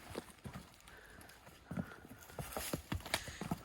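Hooves of a horse walking along a rocky trail, clip-clopping in an uneven walking rhythm on stone, fairly close. Light rustling sounds in the background, and there is no clear talk.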